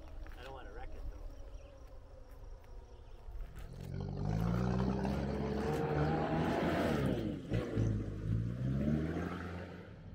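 A SHERP all-terrain vehicle drives with a buzzing engine that rises to a loud, revving roar as it speeds up, its pitch climbing and dipping, with people talking inside.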